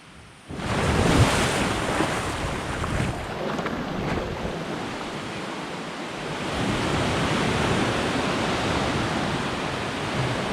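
Ocean surf at low tide on a sunny Algarve beach, a steady loud wash of breaking waves that swells slightly midway, with wind buffeting the microphone throughout.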